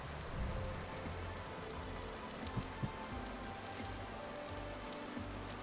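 Steady rainfall in the video game Vintage Story, a constant soft hiss of drops with faint low rumbling underneath, no voices.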